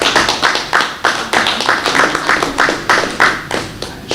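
Clapping at an end-of-season sports awards and ring ceremony: loud, close, fairly regular rhythmic claps from a group, sounding more like a steady beat than scattered applause.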